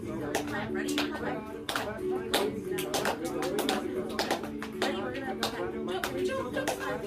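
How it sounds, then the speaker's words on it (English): A small group of children at a story-time session claps hands in a series of sharp, evenly spaced claps, moderately close, interleaved with an adult's spoken prompts. "Clap. Ready? Clap."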